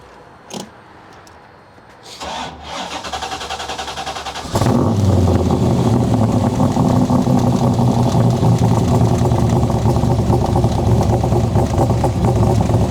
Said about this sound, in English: And with fuel injection, it idles right away.